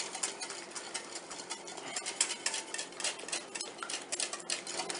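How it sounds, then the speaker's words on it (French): Whisk beating olive oil into a vinaigrette in a bowl, a quick irregular run of light metallic ticks and taps held at a steady pace, close and fairly soft, with no talk. "Donc il faut toujours continuer à fouetter."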